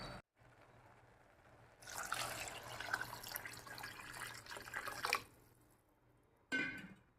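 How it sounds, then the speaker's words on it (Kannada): Water pours into a cooking pot while making bisi bele bath, a steady splashing, trickling stream lasting several seconds, then a short quiet gap and a brief final splash, close and moderately loud with no talking. "ಸೊ ನೋಡಿರಿ ಇವಾಗ ನಾನು ನೀರು ಎಷ್ಟು ಹಾಕ್ತೀನಿ ಅಂತ."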